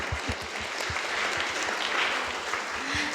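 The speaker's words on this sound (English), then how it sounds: "So can we have a round of applause to thank our artists?" An audience applauds an art panel's artists with steady, dense clapping from a sizeable crowd. The applause is moderately loud and continues throughout, with no one speaking over it.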